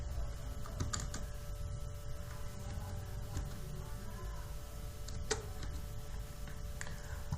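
Computer keyboard keys tapped while entering a six-digit AdSense PIN code, quiet scattered clicks over a steady low hum of room noise.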